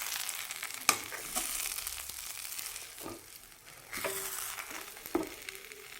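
Upma with sugar is stirred in a pan on the stove, giving a hissing sizzle with scraping strokes and occasional louder scrapes of the spoon against the pan, close and steady.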